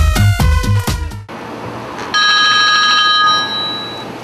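A telephone rings with a rapid electronic bell trill in several quick bursts, then a steadier sustained ringtone tone continues close and loud on its own.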